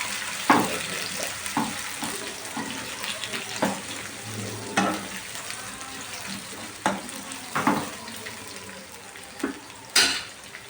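Chopped onions sizzle in a pan, a steady close frying hiss broken by occasional clacks and scrapes of stirring.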